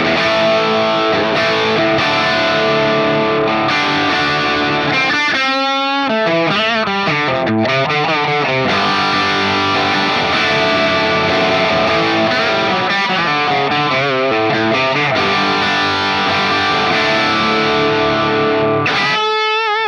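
Electric guitar played through a Tonex capture of a Marshall MKII SV20H amp, with a loud, continuous distorted tone, strummed chords and melodic single-note runs, alone for the whole stretch.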